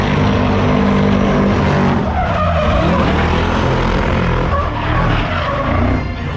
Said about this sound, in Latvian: Kaut kāds V8 brauc.